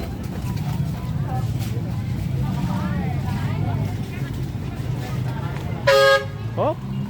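A car horn honks once clearly, then gives a shorter toot, over steady road and crowd noise with voices in the background at a busy fish market.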